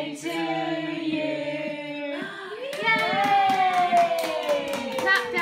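Family members clap at a child's first birthday party after singing happy birthday; sharp hand claps patter through the second half under high, cheering voices and sung notes.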